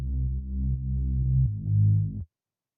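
A Reese bass synth preset plays a sustained, deep, buzzing low note that shifts pitch partway through, heard alone and fairly loud before it cuts off abruptly into silence.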